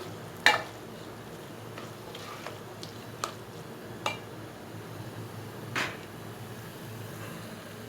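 A spoon stirs lauki bhujia, a bottle gourd dish, in a cooking pan, giving a few soft scraping clicks and light taps spread over quiet kitchen background.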